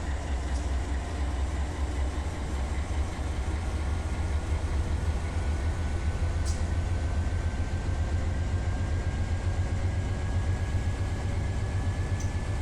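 A freight train drags heavily along the track in the Run 8 train simulator game. It makes a steady, loud, continuous rumble of engine and rolling wagons, with a thin tonal whine running underneath.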